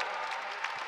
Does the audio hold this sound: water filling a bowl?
no